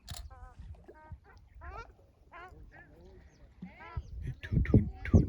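Migratory ducks from Siberia call at the Maguri Beel wetland: nasal quacks and honks repeat in overlapping bursts, fairly close, with a person speaking softly in between.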